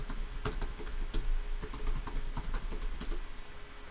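A password is typed on a computer keyboard, with quick, uneven key clicks following one another at close range against a quiet room background.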